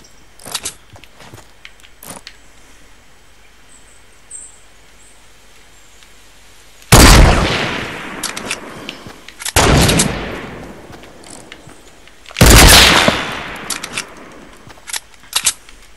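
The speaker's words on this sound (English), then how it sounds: "Seems to be some shooting going on." Gunfire in the battle royale game Fortnite: a few faint scattered shots, then two loud sustained bursts of rapid fire separated by a few seconds, with quieter shots trailing after.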